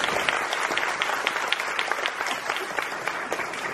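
A theater audience claps at the final curtain call of a staged reading of the musical The Little Prince, a dense, even patter of many hands with a few sharper claps on top, steady throughout and with almost no talk.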